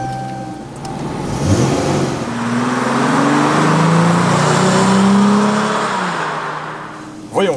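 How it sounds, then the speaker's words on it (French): Dodge Charger V6 with four-wheel drive revving: a steady, moderately loud engine drone that rises in pitch and holds before easing off, with no talking. "Je me suis dit c'est un V6, peut-être ça va se traîner, tout ça, en plus 4 roues motrices. Mais franchement non, et le bruit est très sympa."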